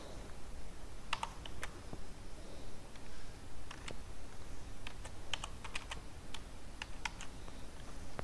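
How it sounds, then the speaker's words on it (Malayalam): A program being typed on a computer keyboard: sparse, irregular key clicks and small clusters of taps, quiet and close over faint background hiss, with no speech. "ഇനി നമുക്കിവിടെ പ്രോഗ്രാം ടൈപ്പ് ചെയ്ത് തുടങ്ങാം."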